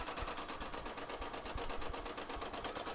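An embroidery machine stitches an appliqué placement line, a quiet, steady rapid needle rhythm running alone without talk.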